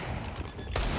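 Pistol gunfire in a Counter-Strike esports match: a quick burst of shots crackles faintly, then a louder cluster of rapid pops lands near the end of the brief moment.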